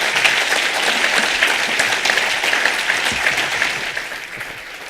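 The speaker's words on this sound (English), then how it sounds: "Let's have a big round of applause for them, please." A conference audience applauds its panelists with a brief burst of dense, steady clapping that holds fairly loud, then begins to fade toward the end.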